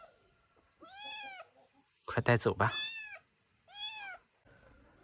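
Kittens give several distinct, fairly close meows in separate bursts, one louder cluster in the middle, with a person speaking briefly.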